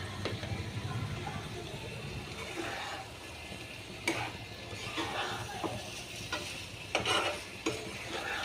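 Potatoes sizzle and fry in a pan for a soybean dish, with a steady hiss broken by sharp scrapes and clinks as they are stirred, close and moderately loud.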